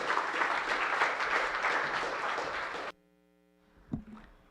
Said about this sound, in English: You can applaud again.